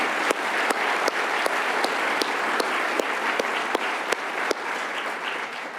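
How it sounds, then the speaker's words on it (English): Steady crowd applause at an employee awards ceremony honoring 30-year staff, a dense continuous clapping wash with sharp, regularly spaced louder claps standing out near the microphone. "So a final round of applause for our 30-year honorees."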